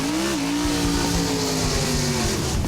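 A drag racing car accelerates hard at a strip, its loud engine note rising steadily and close throughout with no talk over it.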